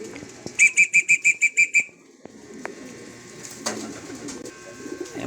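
Racing pigeons arriving at a loft landing board, with a rapid series of about eight sharp whistle-like bursts up close, then faint rustling, flapping and background ambience.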